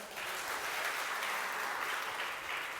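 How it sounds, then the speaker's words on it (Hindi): Audience clapping continuously at a religious discourse gathering, a dense, steady burst of applause from a crowd with no voices over it. "तालियां बजाओ।"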